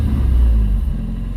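A 2002 Nissan Sentra SE-R Spec-V with a newly replaced throttle body runs at a high idle, giving a steady close low rumble with no talk over it.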